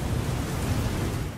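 Steady rain falling, a dense continuous hiss and patter with a low rumbling undertone, close and fairly loud with no voices.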